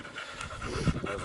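A hunting dog from a boar-hunting pack pants in quick, breathy puffs, close and fairly soft over a brief moment.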